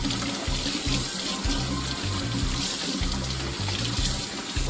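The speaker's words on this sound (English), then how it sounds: "I'm going to wash my fingies a little bit because it handled raw foods." Kitchen faucet running steadily as hands are washed after handling raw food, a close, continuous splashing stream with no voices.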